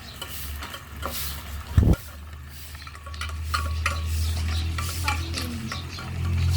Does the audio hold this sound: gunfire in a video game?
no